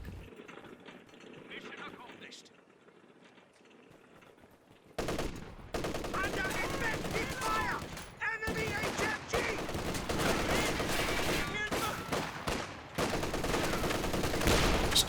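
Sustained gunfire in a Company of Heroes 2 battle aimed at a support gun, with dense overlapping bursts of machine-gun fire and clatter after a quieter opening, running continuously under a commentator's voice.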